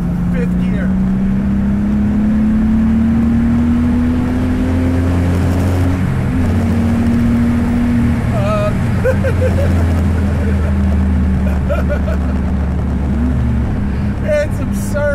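A 550 HP turbocharged BMW E30 M3 accelerates hard in fifth gear from inside the car, its engine drone rising steadily in pitch and staying loud and continuous, with faint voices underneath.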